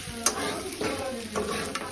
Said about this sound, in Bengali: এটা আগের গরুর মাংস এটাকে হলো এখন ভাজা ভাজা করা হচ্ছে